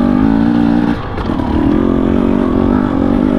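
A 2019 Husqvarna TE250i two-stroke dirt bike engine runs loud and close, with a steady buzzing idle that dips briefly near one second, then rises again into a sustained revving drone.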